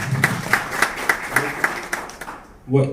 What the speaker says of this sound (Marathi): जोरदार टाळ्या वाजवायला